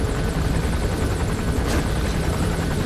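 Helicopter in the stealth video game Metal Gear Solid V: The Phantom Pain, a steady loud rotor thrum with engine whine filling the whole stretch, no voices over it.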